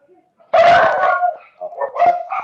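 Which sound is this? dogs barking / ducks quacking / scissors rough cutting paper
dogs barking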